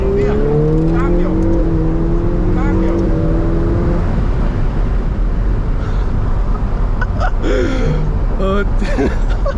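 A Ferrari 488 Pista twin-turbo V8 driven hard on hilly roads near Maranello, its engine note rising through a gear and roaring steadily close by, with excited talk from inside the cabin over it.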